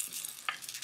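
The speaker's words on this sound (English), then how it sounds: "I can add my spices and we'll see them start sizzling right away." Spices hit hot coconut and toasted sesame oil with a soft, steady sizzle, brief and close, with a faint stir or clink in the middle.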